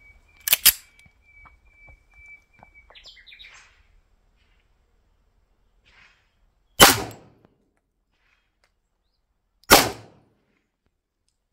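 Two sharp, loud pistol shots from an STI 1911, spaced about three seconds apart, each ringing briefly, preceded by quieter handling clicks and small mechanical noises.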